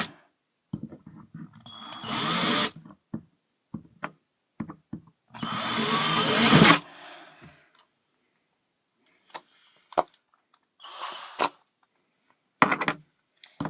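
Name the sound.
power drill with drill bit drilling can for penny stove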